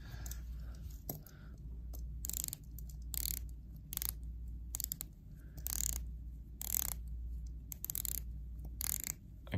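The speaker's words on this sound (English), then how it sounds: "Listen to the bezel action on both. Pretty crisp bezel action." The rotating dive bezels of a Tag Heuer diver and an Omega Seamaster 300M are turned one after another in short bursts of crisp, sharp ratcheting clicks, close and fairly quiet, against a steady low hum.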